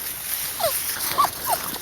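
Three short, high whimpering whines from a dog, spaced out over a couple of seconds against a steady background hiss.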